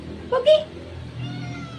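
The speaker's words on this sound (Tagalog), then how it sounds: "Si Lola Mami, yan ang pinakamatandang pusa ko" A cat gives a short, clear meow up close, two quick rising notes, followed by quiet background.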